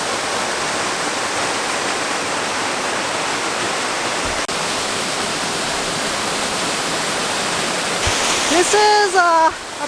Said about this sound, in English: pretty beautiful waterfall. Pretty tall too.